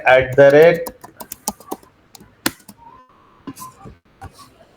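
Keys clatter on a computer keyboard while Java file-upload code is written in an IDE: scattered, uneven clicks at close range after a short burst of talking at the start, then a few quiet gaps.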